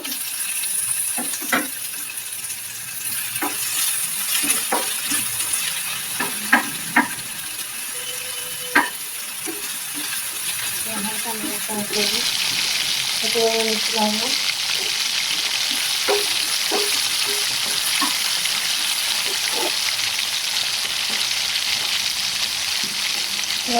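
Chopped tomato going into a frying pangasius fish curry: light sizzling with scattered clinks of stirring, then a louder, steady hiss of frying takes over partway through.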